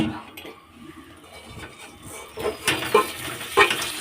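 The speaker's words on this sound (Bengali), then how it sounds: "এবার আমি এটাকে কড়াই ঢেলে নেব" Boiled potatoes tip into a wok for mutton curry, giving a few sharp metallic clinks and scraping knocks near the end after a quiet start.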